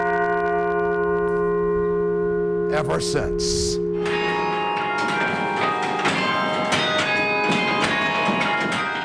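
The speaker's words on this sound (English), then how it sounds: "Carillon bells sing in many voices." The carillon bells of Church of the Covenant in Ohio ring out with long, resonant sustained tones, briefly broken by a speaking voice, then keep chiming with a denser run of struck notes.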